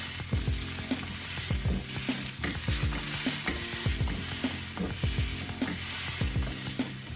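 Prawns on toast pan frying in oil, with a steady sizzle broken by repeated clinks and scrapes of a utensil against the pan, close and without talk.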